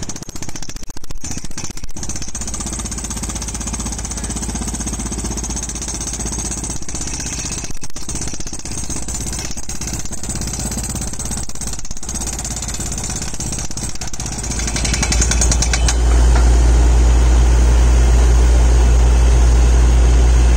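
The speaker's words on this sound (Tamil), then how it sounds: "எல்லாம் செட் பண்ணி கரெக்டாக ட்ரில் பண்ணுறக்கு ஆரம்பிச்சிட்டாங்க" Loud, continuous pounding rumble of a tractor-mounted drilling rig boring a 1000-foot borehole, with an engine drone underneath, growing heavier and deeper toward the end.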